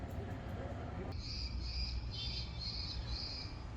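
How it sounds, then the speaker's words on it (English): Electronic bird repeller device on a downtown street in Bristol, Tennessee and Virginia, giving a repeated high-pitched electronic chirping pulse about five times over steady outdoor traffic rumble. "It's one of those bird things that scares birds off from pooping on things."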